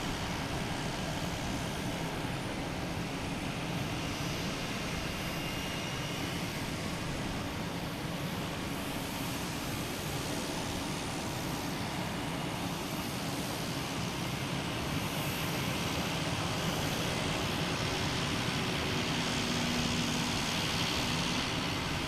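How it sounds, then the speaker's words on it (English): A JetBlue jet arriving from New Orleans at Boston Logan Airport gives a steady, continuous broadband engine roar that holds at even loudness throughout, with no talk. "Next to arrive, we have JetBlue from New Orleans."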